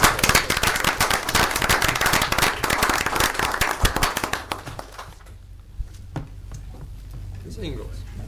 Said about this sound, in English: And let's give Mr. Tabor, Pam, and all his staff a, a round of applause.